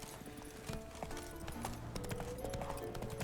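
Horse hooves clip-clop steadily in The Witcher video game, a quiet, even rhythm of repeated hoof strikes on a mountain path, alone with no talk.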